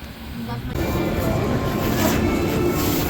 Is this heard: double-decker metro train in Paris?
yes